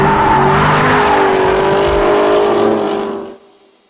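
Chevrolet Camaro 1LE on a track in oversteer, tires squealing in a sustained high screech over a loud engine roar that fades out at the end.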